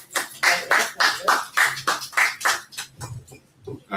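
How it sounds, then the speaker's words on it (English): Audience clapping at a Torah reading gathering, with quick rhythmic claps repeating about four times a second and a few voices mixed in before the claps thin out near the end. "let's clap it up"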